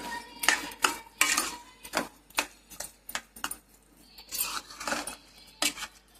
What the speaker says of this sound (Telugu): క్యారెట్ తురుము వేసేసి అదే నెయ్యిలోకి చక్కెర, కొన్ని పాలు, క్యారెట్ వేసేసుకొని బాగా కలుపుకోవాలి